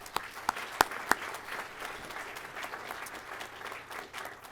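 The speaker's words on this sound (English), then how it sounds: "So please, a special round of applause for our instructor pilots." Applause for instructor pilots at a pilot training graduation, opening with a few sharp, loud individual claps before settling into steady mid-level clapping from the audience.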